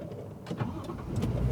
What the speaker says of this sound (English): when you start the vehicle,